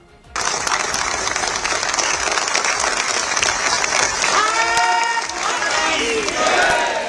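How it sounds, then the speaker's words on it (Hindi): Thunderous applause fills a parliamentary party meeting hall as MPs greet the Prime Minister, steady dense clapping throughout with crowd voices and some shouting rising over it near the end. "उस वक्त पूरा हॉल तालियों की गड़गड़ाहट से गूंजता रहा।"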